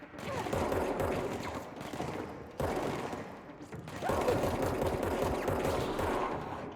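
Sustained bursts of automatic gunfire in the video game Control run continuously and loud with brief breaks, close and dense, with no talk over them.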